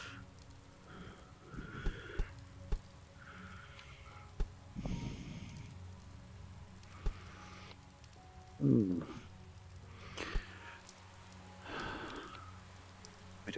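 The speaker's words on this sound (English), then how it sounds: "Bit of rain." Rain falling in the VR game cyubeVR, a soft, continuous patter at low level, interrupted by scattered clicks, soft thuds and muffled breathy noises.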